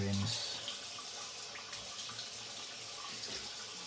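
Water runs steadily from a tap in a sink as something is rinsed, a broad continuous close rush with slight fluctuations throughout and no talk.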